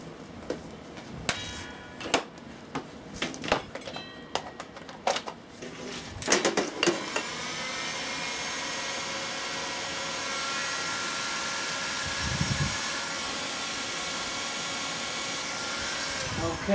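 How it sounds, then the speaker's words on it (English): A heat gun starts up after some scattered clicks and handling noises near a 70-year-old International B 275 tractor, then blows hot air with a steady, even whoosh that carries on to the end. "We've got a heat gun."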